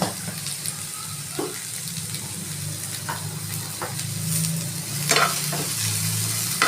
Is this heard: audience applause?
no